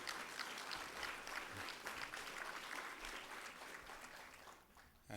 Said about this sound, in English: So you should give them a great big round of applause for witnessing this.